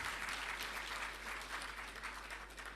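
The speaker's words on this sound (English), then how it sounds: "A round of applause," An audience applauds at a formal state courtesy call at the Ghanaian presidency, a dense, even stretch of clapping at moderate distance with a low electrical hum beneath it.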